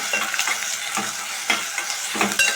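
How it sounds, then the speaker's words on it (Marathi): Onions sautéing in a hot pan with green chillies, a close, steady sizzle punctuated by several brisk stirring scrapes, no voices. "कांदा घालते कांदा आपण चांगला परतून घेऊया"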